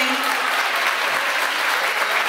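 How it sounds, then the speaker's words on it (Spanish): A church congregation breaks into loud, sustained applause, dense clapping filling the whole brief moment at close range. "demuéstrenselo con un fuerte aplauso"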